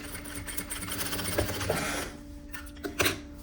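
A sewing machine restitches a seam on a vest, running steadily near and loud for about two seconds, then a few brief fabric and handling sounds follow.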